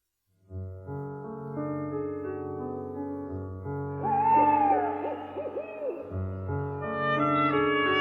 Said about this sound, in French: Ils entendirent des hiboux et des bruits étranges.